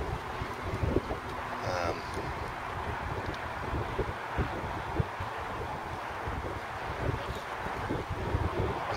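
Wind gusting at the sea during a shore fishing session, a steady broadband roar with buffeting gusts hitting the microphone, loud and continuous throughout.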